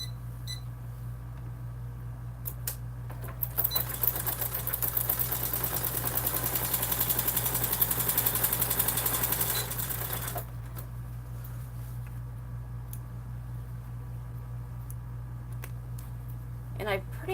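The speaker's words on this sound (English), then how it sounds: "sewing these together along the top straight edge at 1/4 inch" Sewing machine running steadily for several seconds as it stitches outer and lining fabric together along a straight top edge at a quarter-inch seam, with quieter handling sounds before and after.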